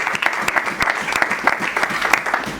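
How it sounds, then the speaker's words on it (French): Applause from guests at a civil wedding ceremony in Brazzaville, a dense steady patter of many hands clapping close by, continuing evenly throughout. "Est-ce qu'on peut les applaudir?"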